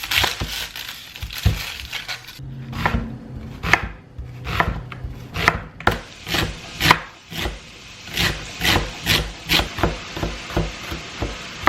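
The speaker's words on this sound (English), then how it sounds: "I am going to chop up the celery, garlic, and onion" A knife chops celery, garlic and onion on a cutting board in a home kitchen, sharp crisp thuds that start irregularly and settle into a quick steady rhythm, close and loud with no talking.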